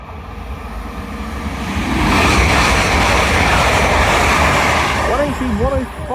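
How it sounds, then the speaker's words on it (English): Grand Central Adelante train passing through Newark Northgate station on the East Coast Main Line, a loud rushing roar that swells after a couple of seconds and holds steady, with a voice talking briefly near the end. "Passing through now is a Grand Central Adelante from London King's Cross to"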